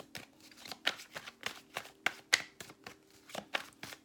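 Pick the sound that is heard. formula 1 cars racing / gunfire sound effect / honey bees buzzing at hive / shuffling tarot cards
shuffling tarot cards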